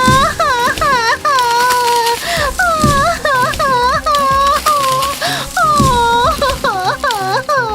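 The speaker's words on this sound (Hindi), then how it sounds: "ये रोने की आवाज कहाँ से आ रही है?" A wavering, rising-and-falling wail like a person crying repeats continuously, loud and close, with quieter rustling underneath.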